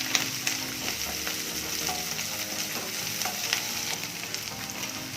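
Curry leaves and garlic sizzle steadily in hot oil for a spicy tomato chutney, a continuous crackling fry with faint stirring scrapes throughout, close and moderately loud with no voices.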